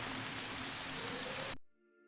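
Steady, dense rain hisses loudly in the Arma 3 video game, then cuts off abruptly near the end, leaving only a faint tonal hum.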